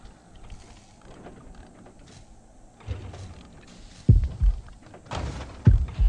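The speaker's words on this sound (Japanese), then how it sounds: "あ、爆発しちゃいましたね。" Several dull booming bursts rise late from a quiet stretch in the mobile horror game Horrorfield, with an explosion set off during play and heavy low thumps recurring near the end.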